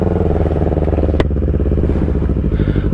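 Motorcycle engines from a Kawasaki Ninja ZX25R and a Yamaha MT25 drone loudly and steadily at close range with dense harmonic rumble during a 500-meter drag test, broken by one sharp click partway through.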